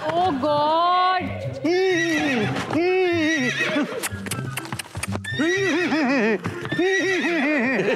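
On a comedy stage show, a horse whinnies repeatedly in loud, warbling bursts with clip-clop hooves under them, likely a staged effect, heard close and prominent with little else around.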